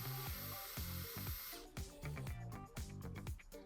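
A power drill whirs steadily, then bites in short repeated bursts as it bores through wood, close and sharp.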